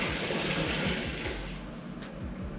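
Water trickles and splashes from a big gold sponge soaked in rinseless wash solution on a ceramic-coated car, a steady close, moderately loud watery patter with no talking.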